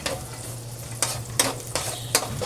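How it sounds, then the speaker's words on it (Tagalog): Garlic stirred in hot oil in a pan previously used to fry tofu: a steady sizzle with four quick scraping strokes of the utensil, close and clear. "Isahin ko na tong bawang para sa adobong sitaw natin. Dito na lang mismo sa kawali na pinagprituhan ko ng tofu."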